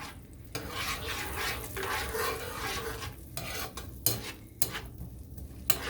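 A spoon scrapes and stirs through vodka sauce with onions in a pan over medium heat, giving uneven swishing strokes with a low sizzle beneath and a few sharp clinks against the pan.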